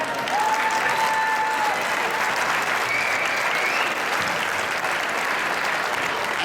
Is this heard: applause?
yes